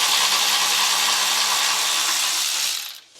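A power tool whirs steadily and loudly, close by, while cover screws come off a John Deere XUV utility vehicle, then winds down at the end.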